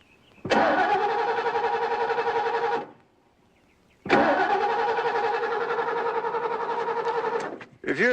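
Car engine cranking but failing to start because the coil wire is missing: two long, loud bursts of starter whine, each over two seconds, separated by a short silence, with a third attempt cut off at the end.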